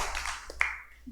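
A church congregation's applause during a worship service, a dense patter of many hands already tapering off and fading out within about half a second, followed by near quiet.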